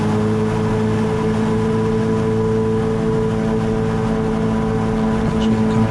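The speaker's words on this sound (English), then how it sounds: "Hear the revs going up." Steady droning engine of a Streak Shadow microlight aircraft on the ground before takeoff, loud and close with a sustained hum that holds level throughout.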